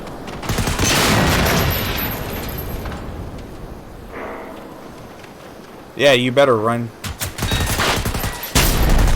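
Gunfire in the first-person shooter Generation Zero: a dense fusillade of rapid shots for the first few seconds, then a gap and more bursts near the end, with someone talking over the shooting.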